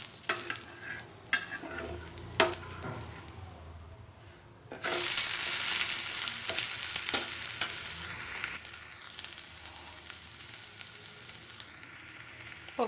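Green gram pesarattu dosa cooks on a pan over a medium flame with a steady, soft sizzle, broken by scraping and stirring clicks; the frying swells louder partway through, then settles.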